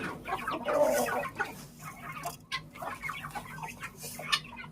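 Several chickens cluck and murmur close by in an irregular chatter, with soft rustling around them.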